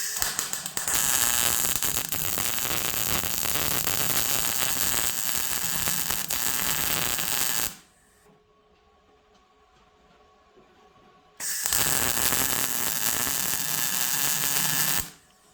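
Welding on a Toyota Tacoma truck frame during repair: a loud, steady crackling buzz runs for about seven seconds, stops for a few quiet seconds, then returns for another stretch before ending.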